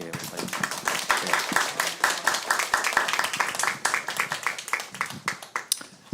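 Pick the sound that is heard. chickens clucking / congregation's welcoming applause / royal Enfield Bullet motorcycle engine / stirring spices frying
congregation's welcoming applause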